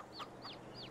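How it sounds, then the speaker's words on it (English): Chickens cluck in the Farming Simulator 22 video game on an Ireland-based farm map, three quick, faint chirping clucks evenly spaced in under a second, with no talk. "Keeping guard on the ducks and the chickens."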